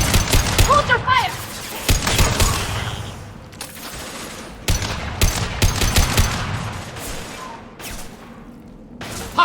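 Gunfire in the Mass Effect 2 video game during a Blood Pack battle, with bursts of rapid shots and booms coming in waves, mixed with shouted in-game voices.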